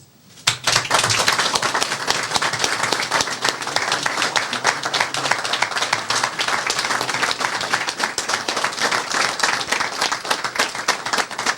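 Dense, steady applause from an audience at an official ceremony during the Haitian president's visit to Fort de Joux. It bursts in after a brief quiet start and stays loud and continuous throughout, with a faint voice briefly underneath.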